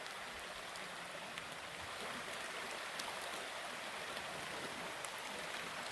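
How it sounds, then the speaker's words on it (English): A creek beside a campsite in Red River Gorge rushes in a constant, even hiss of flowing water, soft and distant, steady from start to finish. "that's the creek. That's what we heard throughout the entire night."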